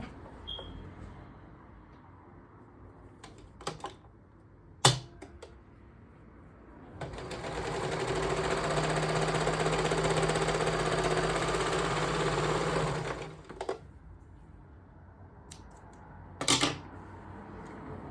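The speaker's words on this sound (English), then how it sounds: "So we're going to serge that seam together." A serger sewing machine runs steadily for about six seconds, stitching a seam on a front-tie leotard, with a humming whir bracketed by quiet fabric handling and a few sharp clicks.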